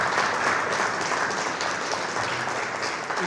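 Audience at a government event applauding, loud and steady clapping throughout with no pause.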